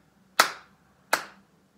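Two sharp hand claps spaced about three quarters of a second apart, each crisp and close with a short decaying ring, alone against near silence, marking out a steady beat.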